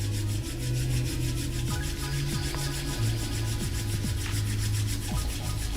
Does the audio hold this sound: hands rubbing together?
yes